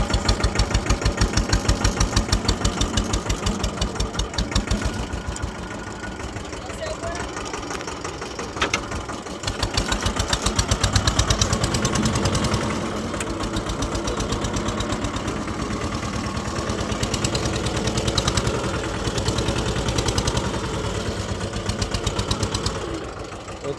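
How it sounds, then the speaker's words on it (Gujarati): A tractor engine runs steadily with a family riding aboard, giving a continuous, fairly loud mid-pitched diesel rumble with a knocking idle throb and slight swells in level, and no talking. "અવાજ સાંભળો ટ્રેક્ટરના"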